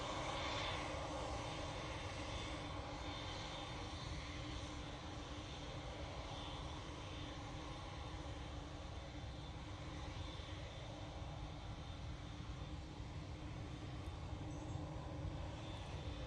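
Airplane engines roaring steadily at Manchester Airport, a continuous broadband jet rumble and hiss that holds at the same level throughout, heard from a distance with no talk.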